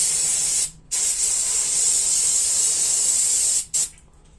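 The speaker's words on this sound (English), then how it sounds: "So I'm gonna use SuperTech Covered Air Intake Cleaner." SuperTech air intake cleaner sprayed from an aerosol can onto a valve spring from a Mitsubishi 4G63T engine, a loud continuous hiss in two long bursts separated by a short pause, close and alone.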